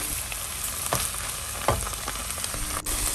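Chicken stir-fries with fresh basil in a pan for pad krapow gai, a loud, dense sizzle close up with a few sharp spatula scrapes and one brief clunk, no talking.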